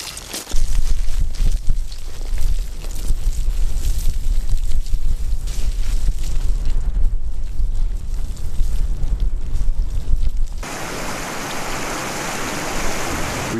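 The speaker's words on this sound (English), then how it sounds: "But it's getting windy now and it's getting cold" Steady, blustery wind on a high mountain pass in Kyrgyzstan roars across the microphone, a constant broadband rush that shifts to a brighter hiss near the end, with no voices.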